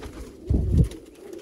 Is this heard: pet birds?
yes